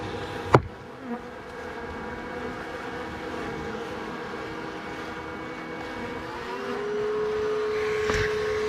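Bees from a giant hive built inside a tiny door swarm in a dense, continuous buzz close to the microphone, with a steady drone and a couple of brief knocks.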